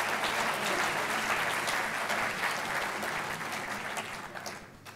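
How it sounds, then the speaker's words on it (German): A lecture audience applauds at an event on freedom of speech, dense sustained clapping from a crowd that fills the room and slowly tapers off toward the end. "Applaus"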